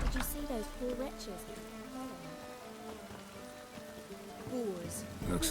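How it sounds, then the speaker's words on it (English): Rain falls in The Witcher 3: Wild Hunt as a steady, even patter that runs the whole way through, mixed with tonal game music and ambient sounds. "Looks like rain."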